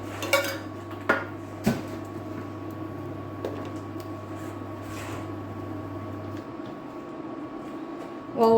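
Jars and dishes are put away in a home kitchen after cooking a miso noodle bowl: a few sharp clinks and clatters spaced a second or so apart over a steady low hum, with a final louder rattle at the end.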